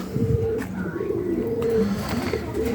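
A female red pigeon cooing close by, repeated soft low coos in a steady rhythm with faint background noise.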